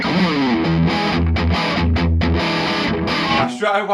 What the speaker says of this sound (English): Same on the distortion pedal.